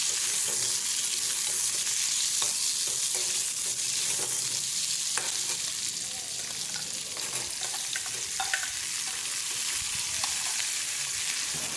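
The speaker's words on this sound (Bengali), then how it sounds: "আলু আর টমেটোটা ঠিকঠাক মতো ফ্রাই করে নেওয়ার পরে" Potato and tomato pieces fry with browned onion in a pan for a katla fish curry, giving a loud continuous sizzle with occasional clicks from stirring.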